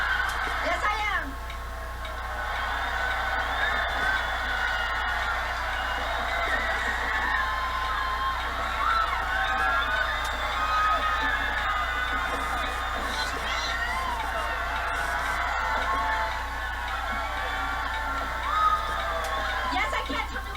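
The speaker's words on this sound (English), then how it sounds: "They're still dancing and hooting and hollering and having a wonderful time." A huge New Year's crowd of about 100,000 in downtown Atlanta cheers and hollers in a continuous distant roar, with a commentator talking over it.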